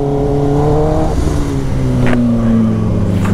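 Kawasaki ZX10R and BMW S1000RR superbikes revving hard and overtaking on the road, a loud continuous engine whine with shifting pitch and brief passing bursts.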